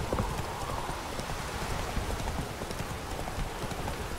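Horse hooves gallop in The Witcher 3 video game, a fast, steady clip-clop rhythm that runs continuously and fairly loud under a rushing outdoor wash, with no talking.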